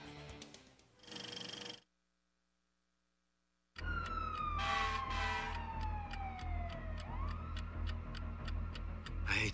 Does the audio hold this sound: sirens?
yes